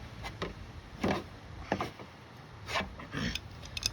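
A screwdriver pries and scrapes at a car's stuck gas tank, producing faint intermittent metallic clicks, creaks and scraping bursts separated by short pauses.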